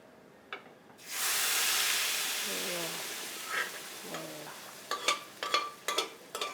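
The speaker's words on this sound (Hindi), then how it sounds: "तड़का लगा रहा है, तड़का, ये है नेपाली स्टाइल तड़का।" Nepali-style tadka spitting and sizzling in hot oil, a loud, steady frying hiss that swells suddenly and holds, with brief stirring clatter and a few sharp knocks toward the end, near and without talk.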